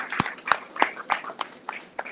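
Lecture audience at a Caribbean museum clapping in a steady rhythm of distinct sharp claps, fairly close and moderately loud, with no voices over it.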